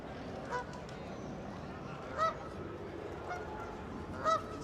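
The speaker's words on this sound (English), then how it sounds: "you've just got all of the ducks, all of the geese" Geese honk in a large flock along the riverbank at Windsor, with scattered loud calls rising over a dense, steady backdrop of bird chatter and outdoor ambience.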